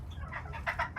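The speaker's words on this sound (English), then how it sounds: "I still have dumb roosters over here that won't learn to sleep in the coop" A rooster clucks near a chicken coop, giving a few soft, short clucks in quick succession, faint and alone, over a low background rumble.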